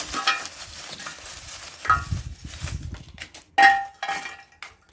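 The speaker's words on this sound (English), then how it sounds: "I'm adding small charcoal." Small pieces of charcoal dropped onto a cooking fire, with clattering knocks, a sharp clang and metallic rattles against a pot or grate over a crackling background, close and loud.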